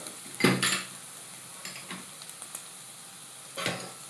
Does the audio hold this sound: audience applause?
no